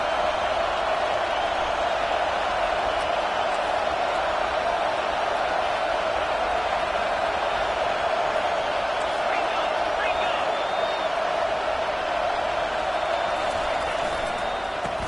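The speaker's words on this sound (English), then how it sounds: "here comes the noise. This crowd is trying to inspire this defense to make a big red zone stop" A dense, constant roar of a large stadium crowd fills the whole stretch, loud and unbroken, with a commentator's voice faintly underneath.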